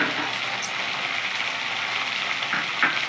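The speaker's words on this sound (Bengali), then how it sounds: "মশলাটা আবার কষিয়ে নিতে নিতে এর মধ্যে এবার আমি দিয়ে দিচ্ছি টমেটো আর কাঁচা লঙ্কা" Bengali masala sizzles and crackles in a hot pan as tomato and green chilli are added and sautéed for a katla fish curry, a loud steady fry with occasional stirring scrapes and no talk.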